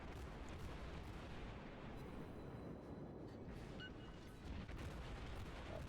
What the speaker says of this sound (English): Let's get everything firing at this Wyoming